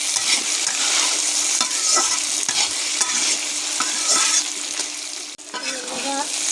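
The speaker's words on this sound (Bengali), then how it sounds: "মটরশুঁটিগুলো ভেজে নেব অনেক সাথে।" Peas and potatoes frying in a pan, a loud, close, continuous sizzle with frequent stirring scrapes that briefly dips and then picks back up.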